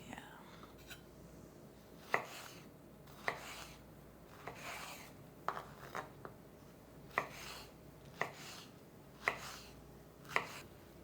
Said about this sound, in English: I am gonna cut up this delicious fresh peach